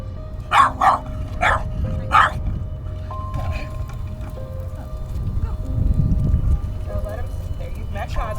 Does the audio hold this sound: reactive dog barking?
yes